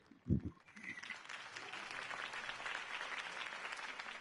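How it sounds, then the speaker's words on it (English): A brief voice, then a crowd breaks into sustained applause at a political campaign speech in a Batman video game, steady clapping filling the space for several seconds. "If only Mr. Wayne, my campaign's largest backer, could have heard that applause"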